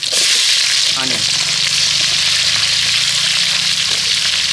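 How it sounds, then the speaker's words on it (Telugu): Crushed garlic and onions frying in hot oil for a Nellore-style bocche fish curry, giving a loud, steady, close sizzle that runs unbroken throughout. "ఇందులోనే ఆనియన్స్ వేసుకోవాలి."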